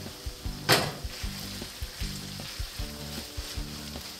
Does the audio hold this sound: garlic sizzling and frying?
yes